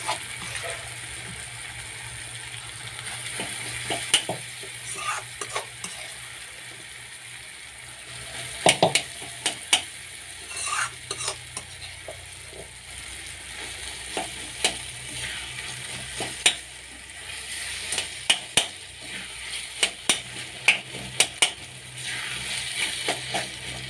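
Steady sizzling from a pan of mashed eggplant in oil, with repeated scraping and stirring clicks throughout, fairly quiet and continuous with no talk.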